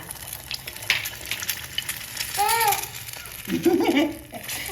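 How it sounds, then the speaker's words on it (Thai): Quail eggs sizzle steadily in oil in a hot multi-well pan, with a child babbling briefly and a few voices in the background. "หยอดไข่ลงไปทีละหลุม ลองดูก่อนว่าร้อนแล้วยัง เสียงแบบนี้ร้อนแล้วยังคะ"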